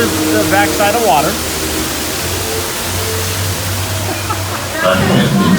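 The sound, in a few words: waterfall, the backside of water on a ride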